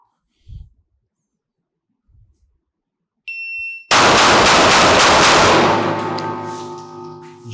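A shot timer beeps, then a rapid string of six shots from a small .380 pistol loaded with Federal ammunition bursts out loud and close, ringing off into a long fading echo.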